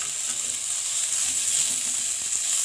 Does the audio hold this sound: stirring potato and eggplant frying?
yes